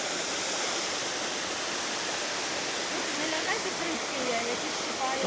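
Khao Ra waterfall in Thailand pours with a steady, dense broadband roar, close and unbroken, with a few faint higher chirps or voices rising over the rush near the end.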